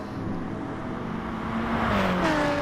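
Race cars in an endurance sim racing event at Tokyo, engines droning steadily and close, with pitch sweeps as one car brakes heavily and downshifts into a corner and then accelerates away.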